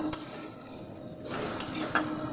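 Ginger paste stirred in a cooking pan for vegetable dal, a spoon scraping and clinking against the metal in a steady close run, with one sharper knock near the end and a soft sizzle underneath.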